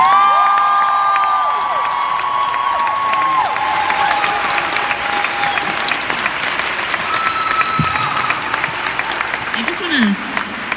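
A concert audience in Chicago breaks into loud, sustained applause with cheering and whoops, a dense crowd sound holding steady for about ten seconds, with a few shouted voices and whistles rising above the clapping.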